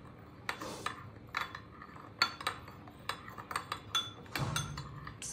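A spoon clinks and scrapes irregularly against a bowl as fresh milk is stirred with salt and sugar, with quiet, close taps and a light swishing between them.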